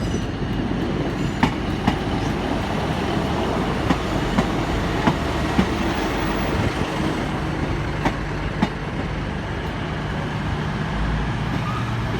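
A Class 150 diesel unit, 150.221, pulls into Exeter St David's station on a Sunday evening, its engine rumbling steadily with sharp clicks of wheels over rail joints scattered across the approach.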